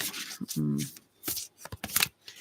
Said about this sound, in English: I must shuffle it a bit so it's not so.